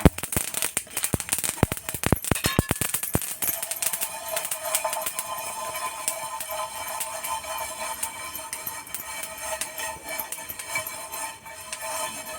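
Garlic frying for a dry Khandeshi chutney gives off a burst of sharp crackling pops at first, then settles into a steady hiss.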